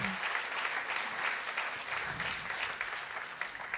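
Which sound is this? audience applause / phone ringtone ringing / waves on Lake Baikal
audience applause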